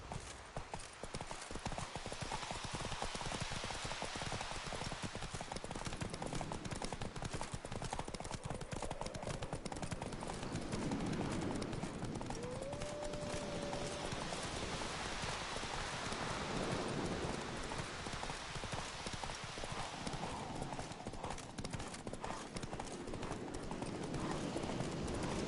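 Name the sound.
horse Roach galloping hooves in Witcher 3 video game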